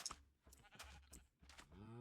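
Sheep in the video game Minecraft bleat several times in short, wavering bursts, close and clear.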